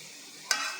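Brahmi leaves and tamarind sauté in a pan, a faint frying sizzle with one quick stir or scrape, heard briefly and alone.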